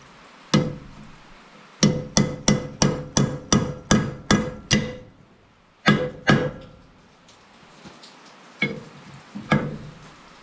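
Hammer blows on a rusty Power Wagon cylinder head: a quick run of about ten sharp metallic strikes in even rhythm, a pause, then two more hits and a few scattered lighter taps, loud and close.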